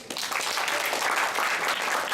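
An indoor audience at an academic English program event in a hotel applauds steadily, a dense wash of clapping that holds evenly for the whole stretch.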